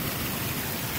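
Heavy storm rain pours down steadily outdoors, a dense, continuous hiss of drops striking surfaces close by, with no voices over it.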